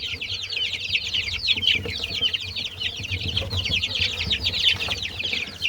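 Chickens and roosters in a coop cluck and chatter continuously, a busy overlapping flock heard up close with some shuffling and rustling beneath.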